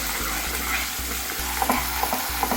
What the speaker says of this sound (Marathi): आता जवळपास 7 ते 8 मिनिट लो फ्लेमवरती हा कांदा परतून घेतलेला आहे आपण.